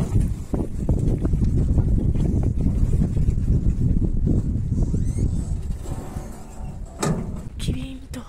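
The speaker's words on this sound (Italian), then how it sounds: "Che vento! Freddissimo!" Strong, cold outdoor wind buffets the microphone as a loud, continuous low-frequency roar that fades a little toward the end, joined by a few sharp knocks.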